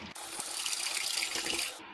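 Water is poured into a pressure cooker holding dried peas, making a steady, faint splashing hiss for about two seconds, followed by a brief clatter at the start.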